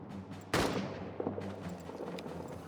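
A single sharp rifle shot in the trench warfare game All Quiet in the Trenches, loud and close, its crack fading into a short rumbling tail over quiet background ambience.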